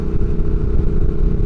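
A 2022 Triumph Speed Twin, rebuilt motor and louder aftermarket exhaust, holds a steady, heavy low-pitched rumble close by. The drone swells slightly and is mixed with wind buffeting, and no voices are heard.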